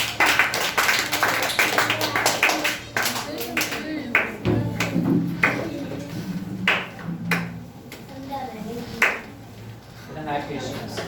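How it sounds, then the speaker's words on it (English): Scattered audience claps ring out for a contestant at a public speaking competition, sharp irregular hand claps mixed with voices talking in the room over about eleven seconds. "clap for Girish."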